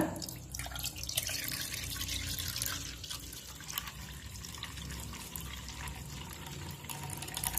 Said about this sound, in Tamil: இப்போ நாலு கப்பு தண்ணி இப்போ இதில் சேர்த்துடலாம்